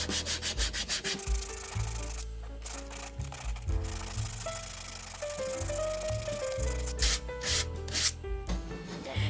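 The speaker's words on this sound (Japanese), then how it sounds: "240番のペーパーで120番の磨き跡を消していきます。" A wooden cup being sanded by hand with 240-grit sandpaper, close-up rhythmic rubbing strokes in quick repeated bursts with brief pauses between passes, quiet and without speech.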